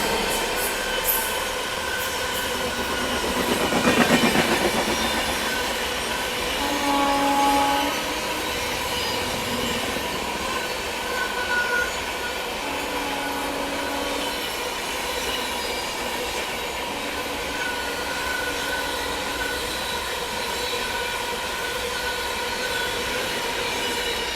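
The Belagavi superfast express train rumbles steadily past at close range through Kadur railway station at night, its wheels clattering and squealing over the rails for the whole stretch, with no voices.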